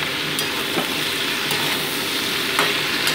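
Morola fish fry in hot oil with salt and turmeric, a steady soft sizzle with occasional faint ticks and pops, no voices.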